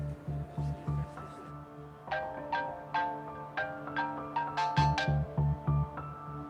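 A phone rings repeatedly with a melodic electronic ringtone and pulsing low tones, and nobody answers; the ringing is steady and moderately loud for the whole stretch.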